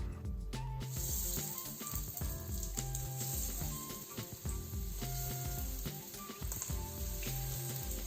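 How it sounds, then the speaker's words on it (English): Chicken pieces sizzle and crackle steadily in hot oil in a wok, a dense continuous frying hiss with occasional pops and stirring clatter, loud and close, with no voices. "we're going to take our chicken and start adding it to the wok in batches"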